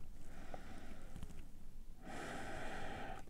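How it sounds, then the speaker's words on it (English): Soft, steady nasal breathing during a lower-back stretching session, quiet and close, with the hiss of one breath giving way to a stronger, rushing exhale through the nose. "Keep breathing through the nose."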